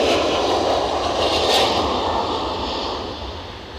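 A JetBlue jet airliner departs Edinburgh airport, its steady, loud engine roar filling the air at close range with a broad rushing hiss that slowly eases away.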